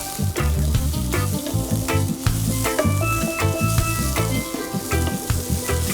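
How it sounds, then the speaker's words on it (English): Corn and onion fry loudly in a pan with a bright, constant sizzle, punctuated by rhythmic scraping and knocking of a stirring utensil against the pan. "just give it a quick stir, just to coat the corn and onion evenly together"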